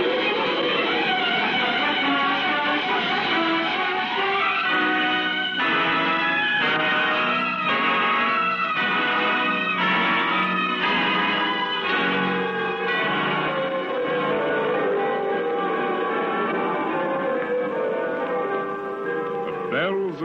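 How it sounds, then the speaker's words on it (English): Paris church bells peal continuously in overlapping, clanging strikes that ring out loud and full, layered over a sustained wash of tones throughout, with no voices heard. "Bells of Paris."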